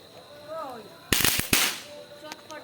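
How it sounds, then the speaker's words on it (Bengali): Chatpati firecrackers set off during Diwali, a sudden burst of sharp cracks and pops over about half a second, loud and close, with faint voices before and after. "তারপর চটপটি ধরিয়ে দেওয়া হলো।"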